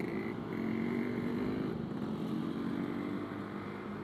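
A Yamaha Qbix 125 scooter engine runs at a steady, moderately loud drone with a low buzzing hum and faint higher whine, holding an even level throughout with no talking.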